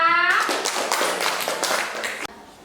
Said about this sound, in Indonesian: beri tepuk tangan dong buat kelompok diafragma